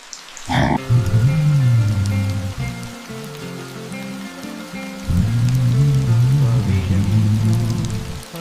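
Steady rain patters and hisses throughout in a flooding forest, with a low melodic tune, a song, droning beneath it that pauses briefly midway before resuming.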